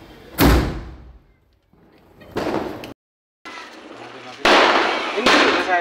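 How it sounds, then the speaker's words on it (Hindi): Firecrackers go off in a residential street during Diwali, several sharp loud bangs with crackling bursts separated by brief gaps, close by, with voices around. "गली में आके अपना पटाखे बजाने का काम शुरू किया।"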